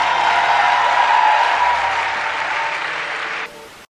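A congregation at a French-language Christian teaching applauds in a loud, continuous wash of clapping that holds steady and then cuts off abruptly.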